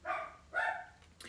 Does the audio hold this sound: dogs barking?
yes